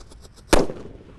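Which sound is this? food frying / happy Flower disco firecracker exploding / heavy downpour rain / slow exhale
happy Flower disco firecracker exploding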